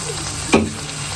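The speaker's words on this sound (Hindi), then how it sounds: "इसको 2-3 मिनट पकाएंगे।" Vegetables for fried rice fry in a hot pan, giving a steady close sizzle with one brief louder clatter partway through and no talking.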